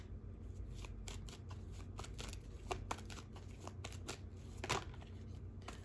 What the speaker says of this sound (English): I'm looking down, shuffling.